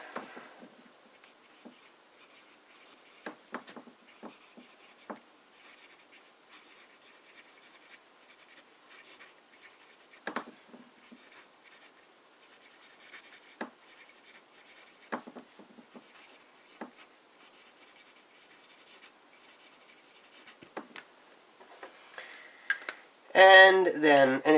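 A broad nib pen writing in Cross Blue ink, with faint scratchy strokes and light ticks spread over a quiet stretch, then a louder burst of scratching at the very end.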